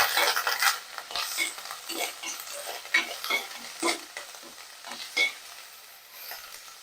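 Onions and tomatoes sizzle in a pan while a utensil stirs them, giving a steady run of close scraping strokes over a soft frying hiss, with no voices.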